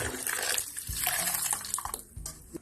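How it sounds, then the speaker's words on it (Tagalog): Running tap water splashes while food is rinsed in a kitchen sink, a close, uneven gushing and spattering with shifting bursts as hands move under the stream. "Tapos hugasan natin siya, guys."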